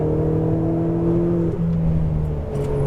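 An exotic sports car engine revs on a racetrack with a sustained, climbing tone, shifts pitch midway, then keeps pulling hard under acceleration, loud and close.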